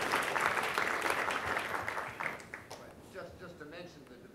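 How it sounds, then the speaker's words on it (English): Applause from the audience at a Harvard Law School community event, loud clapping from many hands that thins and fades over the last couple of seconds into a few scattered claps and a voice. "so you got a huge round of applause for that"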